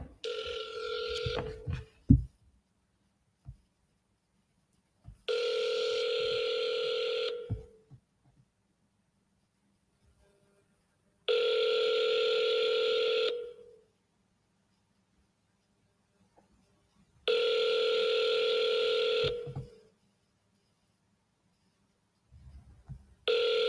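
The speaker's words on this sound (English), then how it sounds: "Double dialing her back." Telephone tones ring out while a call is placed back to someone: a brief burst of dialing, then three long, steady ringback tones of equal length separated by silent gaps, clear and alone.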